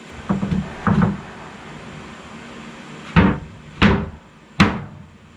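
A few soft wooden knocks early on, then three sharp, distinct wooden thumps spaced about a second apart, as a wooden storage bench top is set and seated into its opening.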